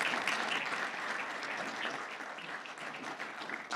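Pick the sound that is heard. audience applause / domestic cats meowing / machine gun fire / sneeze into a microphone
audience applause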